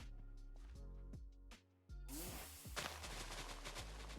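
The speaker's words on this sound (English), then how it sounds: "So it costs 5 blocks to make an explosion this big." A landmine goes off in the Tensura Reincarnated game as a single sharp, loud burst that trails into a crackling rumble, set against a tonal game background.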